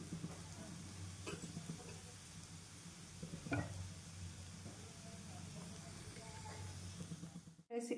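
Oil sizzles quietly on a hot pan under a mixed-lentil protein dosa, with a soft continuous hiss, a few faint clinks, and speech over it.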